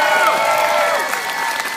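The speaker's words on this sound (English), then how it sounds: "how about one more round of applause for Jenny?" Renaissance festival crowd applauding and cheering for a volunteer at an outdoor comedy show, a short loud burst of clapping mixed with cheers and shouts.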